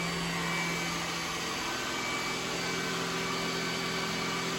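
An iRobot Roomba S9+ robot vacuum runs steadily on a hardwood floor, a constant close motor whir with fan hum and no talking.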